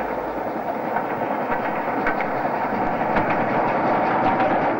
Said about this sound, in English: This is 6022 King Edward III on a Down Express.